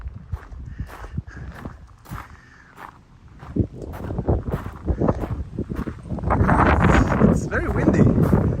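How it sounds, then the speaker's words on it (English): Gusty wind in Strängnäs, Sweden buffets the microphone in rough bursts that grow stronger and steadier toward the end, with footsteps and voices mixed in. "It's very windy."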